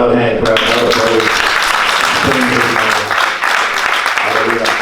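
Clapping and praise from a church congregation, a dense wash of hands heard under continuous voices and singing.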